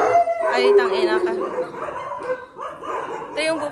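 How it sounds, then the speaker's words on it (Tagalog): Several dogs at a house howl and yip loudly and close by, in long wavering cries that rise and fall and swell again near the end. "Ah, they have dogs?"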